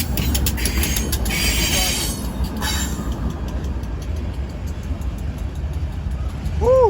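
A BNSF Railway freight train rolls past nearby with a steady rumble of wagons and rail noise, a brief wheel squeal at the end, alone throughout.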